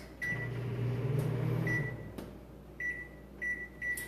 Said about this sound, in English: microwave it again for like 15 seconds at a time